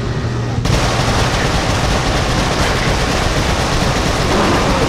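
Relentless loud automatic gunfire in Resistance 3 pours out nonstop, a dense machine-gun roar filling the whole stretch with no voices.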